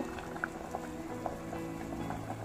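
A pot of kohlrabi sambar with vegetables simmers on the stove, giving a soft, steady bubbling with small scattered pops and a low continuous hiss, fairly faint and close.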